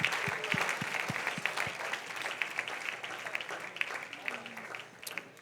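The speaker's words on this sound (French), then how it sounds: "Acclamons le Seigneur Jésus-Christ" Audience applause at a French-language evangelistic church conference; dense clapping fills the hall with a few sharp claps standing out, fading slightly toward the end, under faint voices.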